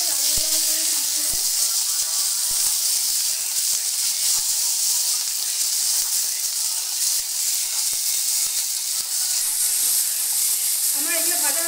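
Vegetables (beans, eggplant and potatoes) frying in oil until browned, a constant loud close sizzle with occasional stirring scrapes and a brief tonal sound near the start and end.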